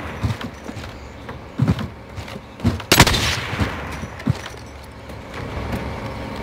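Video game gunfire comes as scattered single shots and short bursts at middle distance, with one louder, sharper blast near the middle and quieter pops trailing after.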